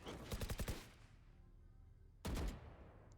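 Two short bursts of automatic gunfire in a Valorant match, a quick rattling volley at the start and a brief sharp burst near the end, separated by quiet game ambience at moderate distance.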